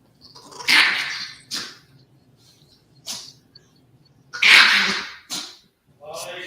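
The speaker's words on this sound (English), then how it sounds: "Is that her growling? No, that's Bitsy that's doing the Oh. screaming" Chihuahuas growling and letting out harsh screaming yelps in several sharp bursts spread across a few seconds, close and loud indoors.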